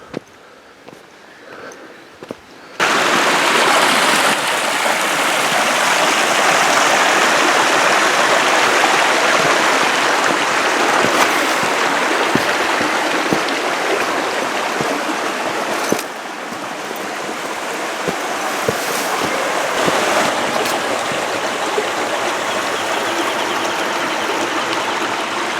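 Water from the Black Star Canyon waterfalls and stream rushes loudly and continuously nearby, starting after a few quiet seconds and staying steady throughout.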